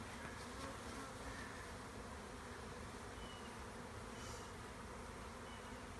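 Honeybees swarm in a bee beard, filling the air with a faint, steady buzzing hum that continues unbroken throughout.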